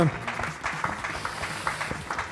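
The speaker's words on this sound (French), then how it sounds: "Vous applaudissez s'il vous plaît l'Hôtel de France" Audience applause at the Trophées SEPTUORS du Gers 2020 awards ceremony honouring the Hôtel de France, a short, steady patter of clapping from a crowd, fairly close and even throughout.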